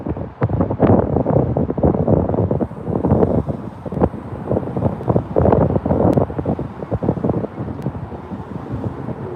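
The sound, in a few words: strong wind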